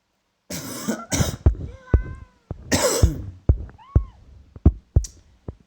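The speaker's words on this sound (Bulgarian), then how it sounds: "Извинете за това кашляне." Several bursts of human coughing and throat clearing, close and fairly loud, with short pauses and brief voiced, almost meow-like sounds in between.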